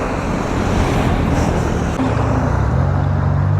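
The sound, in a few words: car approaching on the road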